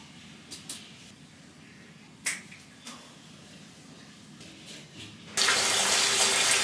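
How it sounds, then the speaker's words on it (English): Water runs from a tap during a face wash with CeraVe Hydrating Cleanser, a steady broadband rush that starts abruptly near the end, after a few scattered small clicks and taps. "For my face wash, I'm using the CeraVe Hydrating Cleanser"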